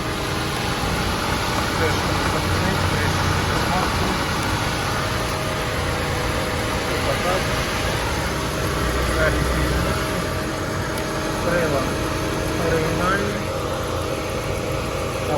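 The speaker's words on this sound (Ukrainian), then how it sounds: "Робота двигуна, двигун працює ідеально." A Volkswagen Touran engine idles with a steady, even hum that runs unbroken from start to finish, close by and moderately loud.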